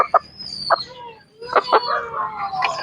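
A red junglefowl (labuyo) gives a few short, close clucks and chortling calls in quick succession, loud and clear with no talking.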